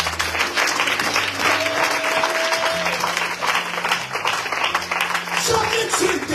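A church congregation breaks into sustained applause acclaiming the Lord, with thick continuous clapping over low held organ-like tones and some voices mixed in throughout.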